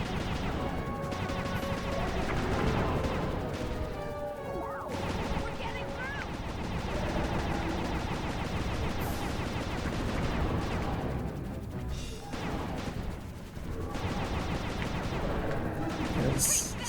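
Gunfire in Sly 2: Band of Thieves, dense bursts of shots and crashing impacts continuing throughout amid busy game sounds, with voices talking over it.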